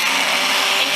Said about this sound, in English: so I dug up the stick blender